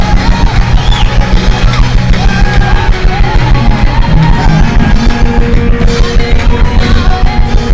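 A church congregation cheers and shouts in loud acclamation during a lively worship service, the crowd's yells and voices blending into a dense, continuous roar with music underneath.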